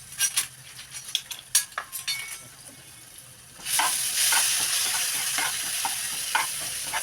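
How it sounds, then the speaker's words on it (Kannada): A spoon scrapes and stirs turmeric powder into a ginger-garlic mixture in a pan, with scattered clinks at first, then a loud, steady oil sizzle takes over. "ಈ ಥರ ಅರ್ಶಿನ ಪುಡಿ ಹಾಕ್ಕೊಂಡು ಚಲೋತ್ನಂಗೆ ಇದು ಕಲಿಸ್ಕೊಳ್ಳೋಣ ರೀ"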